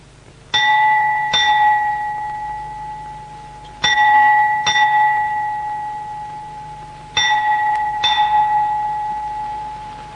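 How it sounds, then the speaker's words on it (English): A prison jail bell at Yeravada strikes in distinct ringing clangs, heard in pairs with long decaying tones and gaps between them, fairly near and clear against a quiet background. "The jail bell struck 12"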